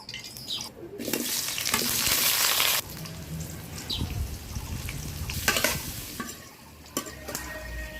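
Potatoes fry in a hot pan for a Sylheti-style chitol fish muitha dish, a close, steady sizzle broken by scraping stirs and clatter of the utensil against the pan, with no talking.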